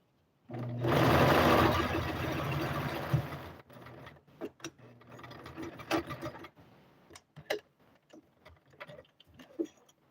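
A sewing machine runs a regular zigzag stitch on a shirt, a loud steady whirring burst for about three seconds, then short stop-and-start runs and clicks as it back stitches.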